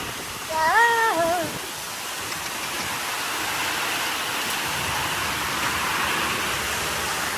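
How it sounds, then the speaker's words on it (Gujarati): Dense, steady rush of heavy unseasonal rain with hail in Kheralu, Gujarat, with a brief mewing cry near the start. "ગજબનો વરસાદ છે"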